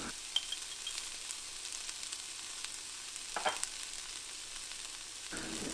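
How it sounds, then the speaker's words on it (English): Garlic with cumin and other spices frying in a pan gives a quiet, steady sizzle, broken by a few soft stirring scrapes and clicks, with no talk. "I'm going to add the garlic now and cook for about another minute."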